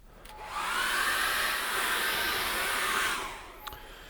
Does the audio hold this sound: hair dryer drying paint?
yes